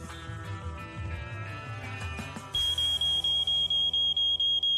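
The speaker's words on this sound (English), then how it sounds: "Code 16, malfunctioning smoke detector." A malfunctioning smoke detector gives sharp, high electronic beeps in a steady, evenly spaced series, loud and close, after a few seconds of other indoor sound.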